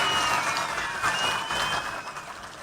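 A large audience claps loudly and steadily at a political rally, a dense wash of hands that holds for a few seconds with no talk over it.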